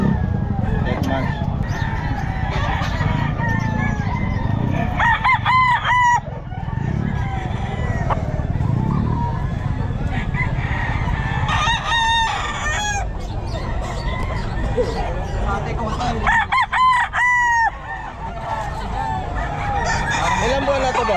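Roosters crow and chickens cluck at the Bocaue pet market, several loud crows in bursts over a busy murmur of fowl and background voices.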